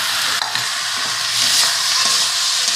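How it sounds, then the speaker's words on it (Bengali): Boiled dal and fried egg are stir-fried in a hot pan, giving a steady close sizzle with soft stirring scrapes throughout. "তারপরে ডালটা দিয়ে কষতে হবে ভালো করে।"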